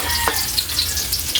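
Garlic sautés in hot cooking oil, giving a steady close sizzle and crackle with small pops throughout, no talking.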